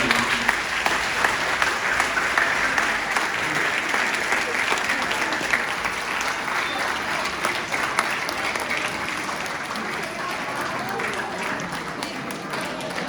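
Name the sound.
audience applauding the lecturer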